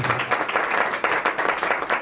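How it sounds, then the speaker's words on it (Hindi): A church congregation claps loudly and steadily in a dense, rhythmic burst of many hands filling a large room. "ताली बजाए जोर से परमेश्वर को"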